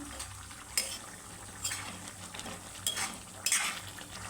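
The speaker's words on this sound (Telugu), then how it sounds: "ఒకసారి బాగా కలుపుకోవాలండి" Egg masala curry is stirred in a pan after garam masala goes in. A soft background sizzle runs under several distinct scrapes and clinks of a spoon against the pan.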